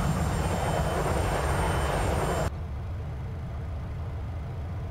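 Simulated Boeing 737-300 jet engines roar as a steady broadband rumble, loud for the first half, then dropping abruptly to a quieter, duller drone, with no voices.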